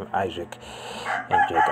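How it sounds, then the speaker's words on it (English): A rooster crows in the background in the Philippines, a sustained call rising through the middle of the clip while someone speaks over it before and after. "sorry for the background noise and the roosters and all that stuff"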